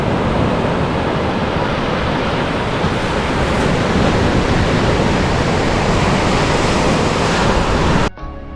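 Ocean surf at San Clemente State Beach roars as a loud, continuous wash of breaking waves, broad and steady, before cutting off abruptly near the end.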